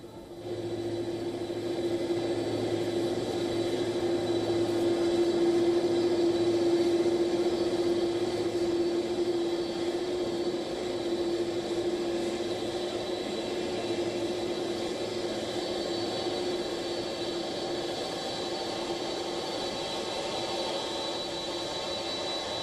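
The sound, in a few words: Air Force One aircraft at Ben Gurion Airport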